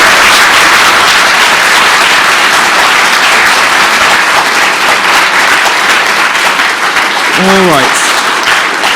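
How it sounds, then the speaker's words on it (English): A university lecture audience applauds a guest speaker named Christina: dense, sustained clapping fills the room at steady loudness throughout, and someone speaks briefly near the end. "So give one more round of applause for Christina."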